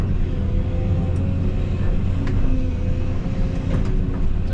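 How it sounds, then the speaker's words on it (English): Strong sustained wind of about 20 miles an hour blows steadily outdoors in pouring rain beside burn piles, a loud continuous broadband roar with gusty low rumble and no talking. "Where'd this wind come from? Like, it was blowing, but now it's like 20 mile an hour sustained wind."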